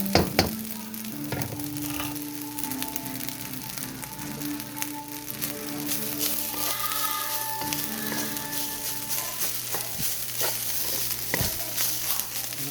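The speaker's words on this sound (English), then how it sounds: "So it can start frying up." Steady sizzling and crackling of pork and egg fried rice frying in a pan, with occasional clinks and scraping as it is stirred.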